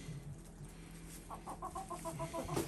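Chickens on the coop path give a run of soft, rapid clucks in the second half over faint background noise, close and fairly quiet.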